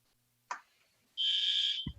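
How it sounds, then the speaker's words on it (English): Fire alarm sounding inside a building during a zoning board meeting, a steady electronic tone held for under a second after a brief click, moderately loud with no talk over it. "we have the fire alarms going off here"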